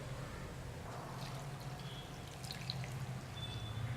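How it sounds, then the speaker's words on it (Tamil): Water is poured into a pot of soup with curry leaves, a faint, steady trickle and splash that runs continuously and close, with no talk over it. "ஸோ 4 கிளாஸு வாட்டர் நீங்கள் ஆட் பண்ணிக்கோங்க"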